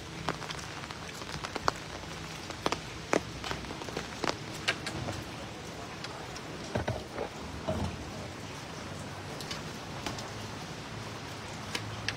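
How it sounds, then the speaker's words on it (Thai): Steady rain falls on surfaces at a temple during evening chanting, a dense patter with scattered louder drips and taps, moderately close and continuous throughout. "ฝนก็ตก"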